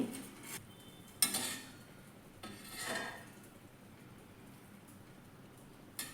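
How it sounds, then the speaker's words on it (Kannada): Chapati dough being mixed by hand with coconut oil in a bowl: a few short, soft scraping and clinking bursts spaced apart, close and fairly quiet, with no talking. "ಎರಡು ಟೇಬಲ್ ಚಮಚ ಕೊಬ್ಬರಿ ಎಣ್ಣೆನ ಹಾಕಿಬಿಟ್ಟು ನಾನು ಇದನ್ನು ಚೆನ್ನಾಗಿ ಕಲಿಸ್ಕೊತೀನಿ"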